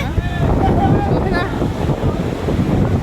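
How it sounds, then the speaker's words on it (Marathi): Strong storm wind at the seashore in Madh, Mumbai, roars and buffets the microphone, mixed with the rumble of surf, loud and constant, with some faint voices underneath. "कुठलं वारं सुटले"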